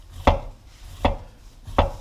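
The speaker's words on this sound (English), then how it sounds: "first we can shred the cabbage by hand" A knife shreds cabbage thinly by hand on a flat side with the root still attached, giving three separate crisp chopping strokes spaced about three-quarters of a second apart, close and clear with no talk.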